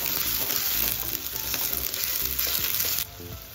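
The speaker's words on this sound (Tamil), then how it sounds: "வெங்காயமும் பூண்டும் நல்லா வதங்கிடுச்சு." Onions and garlic sauté in a pan with a continuous close sizzle and crackle, occasional soft stirring scrapes breaking through, and the frying dropping slightly quieter toward the end.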